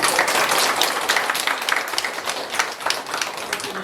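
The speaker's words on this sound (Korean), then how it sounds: "우리 답변을 주신 시장님한테 다시 한번 박수 한번 부탁드립니다" Audience applauding the mayor at a senior citizens' center in an apartment complex, a steady burst of dense hand clapping from a gathered crowd that stays loud for several seconds, then thins slightly toward the end.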